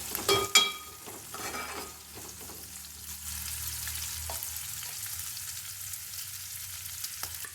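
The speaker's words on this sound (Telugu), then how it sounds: "ఇలా ఆనియన్స్ మగ్గనివ్వాలి పచ్చిమిర్చి కూడా దూరగా అవ్వాలండి" Onions and green chillies fry in oil with a continuous soft sizzle, opening with a few loud stirring clatters before settling into an even, gentle bubbling hiss.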